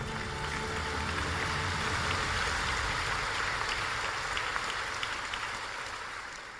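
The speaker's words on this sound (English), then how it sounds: "Let us give them a big round of applause for that." Sustained, dense applause from a large audience at a China-Africa summit, a steady hiss-like wash of many hands clapping that holds evenly throughout and eases slightly at the end.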